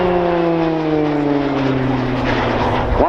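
An RAF Tucano turboprop trainer with a 1,150 shaft horsepower Garrett reverse-flow engine passing at an air show, a loud propeller drone whose pitch slides steadily downward as it flies by.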